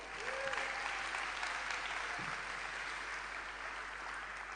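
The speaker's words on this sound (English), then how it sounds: "one round of applause for our 10 pitching teams today" A crowd applauds ten pitching teams at a hackathon final round, a steady wash of many hands clapping at moderate level, sustained evenly through the whole stretch with no voices over it.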